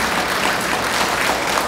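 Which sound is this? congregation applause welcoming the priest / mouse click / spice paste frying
congregation applause welcoming the priest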